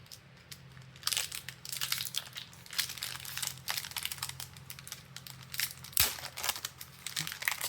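Paper wrappers crinkle and crumple in bursts, close and fairly loud, with brief pauses between handfuls and no voices.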